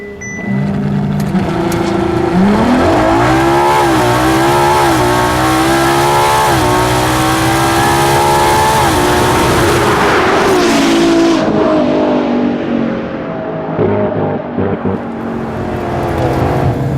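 A 2015 Ferrari LaFerrari launches down a drag strip with a loud, rising engine roar that climbs through several gear changes. The pitch steps up, drops at each shift and climbs again, and the sound fades toward the end as the car pulls away.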